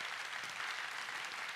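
A prayer meeting crowd applauds in praise of God, a steady, even wash of clapping that holds at one level from start to finish, fairly quiet and unbroken by speech.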